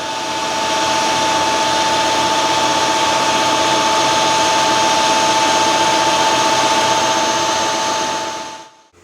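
A lathe turns an alloy steel screw at 925 RPM taking a 0.2 mm cut, a loud, steady machining drone with a constant whine that runs unbroken, then cuts off just before the end.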